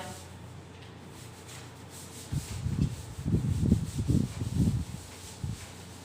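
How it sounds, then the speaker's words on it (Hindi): Rubbing strokes of an eraser or duster wiping writing off a board during a maths lecture, a series of rhythmic scrubbing bursts starting after a quiet opening, close and moderately loud. "चलिए इसको अब हम रब कर देते हैं।"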